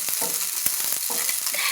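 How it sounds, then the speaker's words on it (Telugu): Chillies fry in oil in a pan for egg semiya, a close steady sizzle with repeated scraping stir strokes throughout. "నెక్స్ట్ చిల్లీస్ యాడ్ చేయండి"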